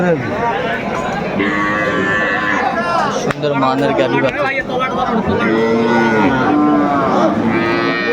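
Repeated loud moos from dairy cows and calves fill a crowded rural cattle market, long tonal calls overlapping one another amid steady crowd chatter and nearby voices.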